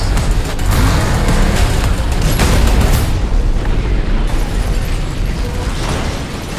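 Cars fired from cannons in an action film, a dense, loud wall of blasts, booms and metallic mechanical clatter that runs continuously and eases slightly toward the end.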